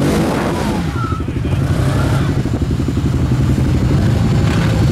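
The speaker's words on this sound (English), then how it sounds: "Look at that bike." A motorcycle engine revs loudly and steadily nearby, a rough continuous roar with rattling clatter and no pauses, with a brief shout in the background.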